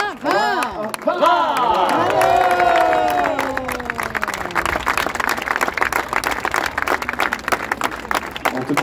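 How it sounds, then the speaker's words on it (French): Crowd at the Vendée Va'a 2024 outrigger canoe podium ceremony in Les Sables-d'Olonne cheering with shouts and whoops, then breaking into loud sustained applause and clapping outdoors. "sur la plus haute marche du podium, on applaudit très très fort"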